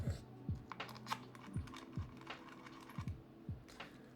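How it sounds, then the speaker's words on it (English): Plastic keycaps for a Daji Seis Cinco keyboard are gathered off the ground in a run of light, close clicks and taps repeating about every half second, with faint background murmur. "Pick up keycaps off the ground."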